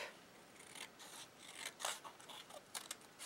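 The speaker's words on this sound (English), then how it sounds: "Cut a strip." Scissors cutting a strip of paper in a punch hole craft session, a string of close, crisp snipping and rasping strokes in quick irregular succession, quiet and alone without talking.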